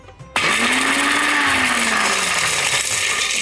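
A mixer grinder whirs loudly and steadily as it grinds makhana and other ingredients for healthy Diwali laddus, starting abruptly after a brief quiet moment and holding a constant motor drone.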